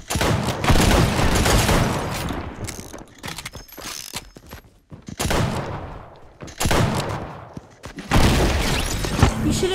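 Six shooter revolver fire in the video game Fortnite comes in loud, close clusters of rapid shots mixed with mechanical clicking, separated by short quieter gaps.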